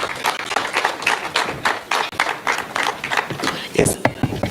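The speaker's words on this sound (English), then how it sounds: "Let's give him a round of applause." Close, uneven clapping from an audience at an agriculture youth side event welcomes someone to the stage, individual claps distinct amid voices talking over them.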